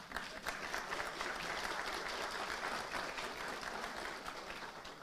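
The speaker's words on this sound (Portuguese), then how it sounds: "E nós deveríamos aplaudi-las." Sustained applause from an audience, dense, even clapping that stays loud and steady throughout without a break and with no talking over it.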